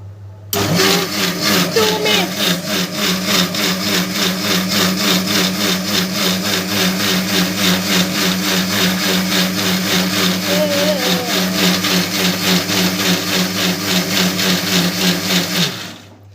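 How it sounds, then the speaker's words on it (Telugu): A kitchen mixer grinder blends oats dosa batter with ginger: a loud, steady electric motor whir kicks in abruptly, runs continuously at constant pitch for about fifteen seconds, then cuts off. "కలిపిన తర్వాత మూత పెట్టేసి మిక్సీలో ఆన్ చేయాలి"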